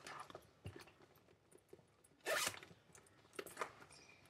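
A zipper on a small purse is pulled open in one quick, close zip, with a few light clicks and rustles before and after.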